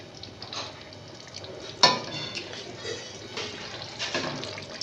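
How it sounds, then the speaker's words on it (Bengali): Water poured into a pan of oil-released masala while cooking a matar dal bora curry, heard as a close, steady liquid rush with a brief louder splash near the start, no talking. "এবার এর মধ্যে আমি জল দিয়ে দেব।"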